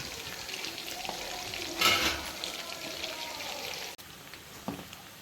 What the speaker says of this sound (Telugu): చూడండి, చేప ముక్కలు అయితే ఎర్రగా వేగిపోయాయి కదా